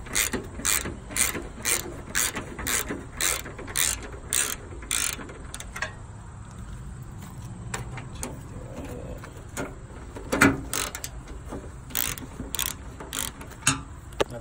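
A ratchet with a 10mm socket removes front fender bolts, giving a quick run of loud, regular clicking strokes up close, then slower scattered clicks and handling noises, with faint birdsong in the background.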